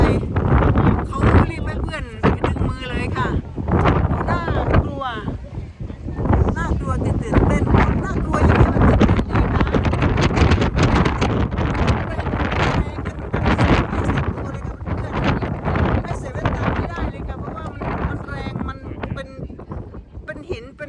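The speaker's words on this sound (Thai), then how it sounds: "ลมแรงสุดๆเลย" Strong wind gusts at the Preikestolen cliff in Norway buffet the microphone in loud, rough bursts, heard under people speaking throughout.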